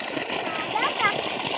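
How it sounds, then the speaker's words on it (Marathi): Water gushes from a well pump motor, a continuous rush and splash of water with voices talking over it. "हे बघ मोटरीतून कसं पाणी येतंय"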